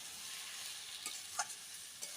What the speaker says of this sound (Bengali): দিয়ে ভালোভাবে নাড়িয়ে নেব।